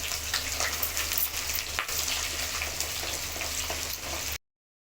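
Shallots and green chillies frying in sesame oil, a steady dense sizzle with faint crackles running evenly until it cuts off abruptly near the end.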